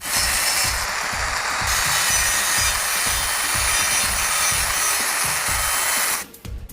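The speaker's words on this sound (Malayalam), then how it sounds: "ഇനി ഇവിടെ ഒരു ടയർ ഇടാൻ പാകത്തിനൊരു 2 കട്ടിങ് കൂടി ഉണ്ടാകും" An old bicycle frame being cut with a power tool to make slots for a tyre, giving a steady loud grinding rasp with rhythmic low pulses that runs almost without a break, then stops abruptly near the end.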